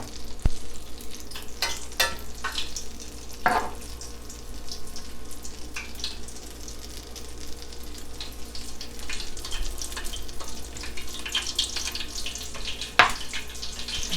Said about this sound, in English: I will go ahead and throw my little onions on here